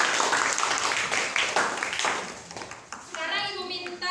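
A class of students claps together, a dense burst of applause that tapers off after a few seconds, followed by a voice speaking.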